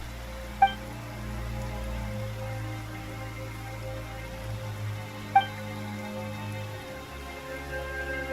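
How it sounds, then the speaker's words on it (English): Steady soft rain begins in the Genshin Impact video game, falling as a gentle continuous patter with two brief bright chime-like plinks and a low hum beneath. "Why is it raining all of a sudden?"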